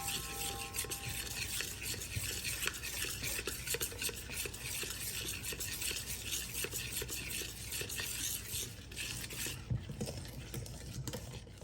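Cornmeal and all-purpose flour being stirred together in a bowl for sourdough cornbread, a continuous close scratchy rustle of steady stirring strokes with no talking.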